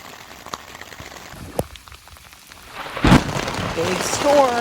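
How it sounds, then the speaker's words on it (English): Heavy rain from a thunderstorm at a lakeside campsite on Lake Superior, a steady drumming hiss with a loud rumble of thunder building midway and the downpour swelling afterward. "Big storm."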